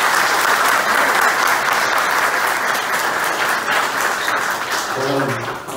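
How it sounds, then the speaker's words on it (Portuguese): A crowd at a campaign event in São João claps loudly for former mayor Dr. Antônio Jacques, dense continuous applause that holds close and strong, tapering slightly at the end as a voice begins. "Queria uma salva de palmas para ele"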